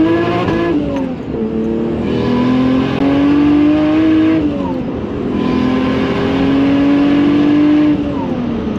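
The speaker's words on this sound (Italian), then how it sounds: "Turbina completamente piena, a 4000 giri," A Nissan Skyline R33 with an RB28 engine and turbo revving loudly at about 4000 rpm, its pitch climbing and holding in long pulls with dips between, close and continuous.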